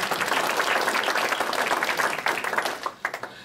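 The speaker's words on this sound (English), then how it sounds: "How about we give a big applause to Paul?" Conference audience applauding, a dense burst of many hands clapping that holds steady then thins out into scattered claps at the end.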